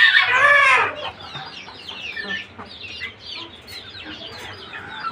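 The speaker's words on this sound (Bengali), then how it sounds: "আমি গতকালকে আনছি মুরগি 4টা মুরগি আনছি" Newly bought hens, Silkie and broiler chickens among them, loud at first with a drawn-out squawk or crow, then a run of soft, close clucks and chirps continuing at a lower level.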